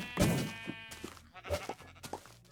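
Sheep bleat in a Minecraft mod, with a loud bleat early and a few softer bleats following over quiet game ambience.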